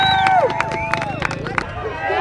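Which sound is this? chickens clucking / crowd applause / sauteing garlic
crowd applause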